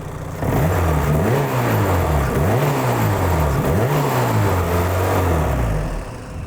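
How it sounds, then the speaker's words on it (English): Turbo K24-swapped Nissan 240SX S14 time attack car revving hard, a loud, close four-cylinder rasp climbing and dropping in three or four quick blips before settling back toward idle. "can you give it some revs for us?"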